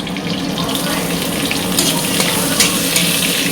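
Sliced onion goes into hot oil already frying garlic and ginger, giving a steady, fairly loud crackling sizzle with a few brighter pops toward the end.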